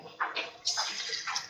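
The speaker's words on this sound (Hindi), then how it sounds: "अब हम इसमें थोड़ा सा पानी डालेंगे," A little water poured into fried spices in a pan for halwa puri, a short close gush with soft splashy bursts.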